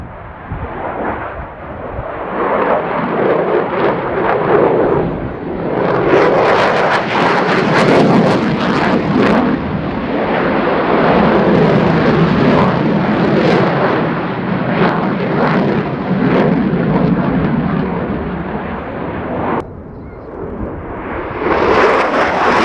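Belgian F-16 fighter jet, an older A or B model, roaring through an air display at RIAT with a loud, sustained thundering engine noise that swells and holds for most of the run before briefly dipping and rising again.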